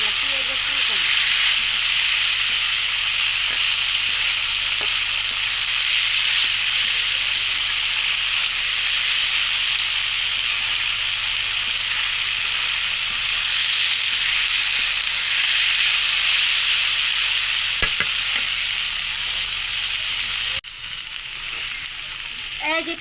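A mix of four vegetables fries in a pan with a steady, dense sizzle and hiss that runs unbroken and close, dropping slightly in level near the end.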